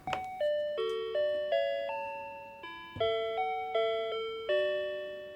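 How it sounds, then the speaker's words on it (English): A Japanese convenience store entrance chime plays a bright, melodic sequence of ringing electronic notes, each decaying gently, heard clearly and alone. "Instead of an obnoxious bell or a loud beep when you enter the store, you're greeted with a lovely chime"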